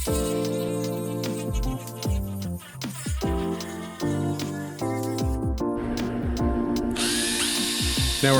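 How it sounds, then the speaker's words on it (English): A power drill whines in repeated bursts, pitch shifting as it bites through steel knife-blade bolsters, with brief pauses between each run. "Now we're going to drill our holes through the bolsters"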